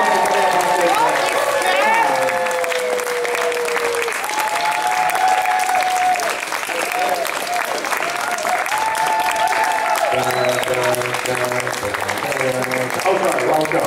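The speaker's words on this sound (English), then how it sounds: "all of our guests of honor or hiding backstage can now come up on the stage to large, thunderous amounts of applause" An anime convention crowd applauds as guests of honor come up on stage at the opening ceremony, dense clapping running throughout with music playing beneath and a voice speaking over it.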